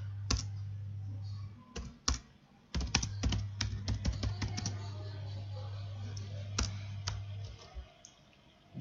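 Password being typed on a computer keyboard: a run of sharp, close key clicks in uneven bursts over a steady low hum, with a short pause partway through.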